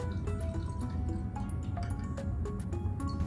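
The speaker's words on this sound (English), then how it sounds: "But for me, with this giant graduated cylinder, I'm just gonna pour them in." Purple liquid pours into a giant graduated cylinder for a rainbow density column, making a continuous gurgling trickle with small bubbly plops throughout, close and fairly loud.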